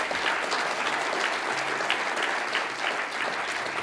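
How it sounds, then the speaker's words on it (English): A crowd gives a steady, sustained round of applause, a dense wash of many hands clapping at fairly even loudness throughout, with no talk over it. "Can I have another round of applause for Ben?"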